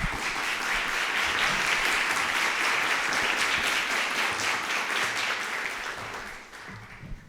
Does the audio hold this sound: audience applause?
yes